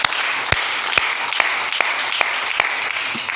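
A church congregation applauds the Lord: dense, steady clapping fills the room, punctuated by a few sharper, evenly spaced claps standing out above the crowd.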